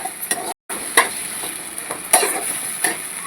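Onions fry with a steady sizzle in a pan while a spoon stirs them, giving a few scraping clinks against the metal, close and alone.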